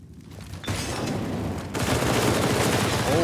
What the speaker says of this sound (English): MP9 to the face of Forrest, and Get Right, and Sunny sneaking in behind and getting a huge frag